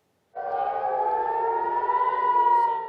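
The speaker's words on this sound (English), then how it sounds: "No sooner had the sirens in Israel sounded" A civil defense siren in Israel begins after a short silence and holds a loud, steady wailing tone, rising slightly in pitch toward the end.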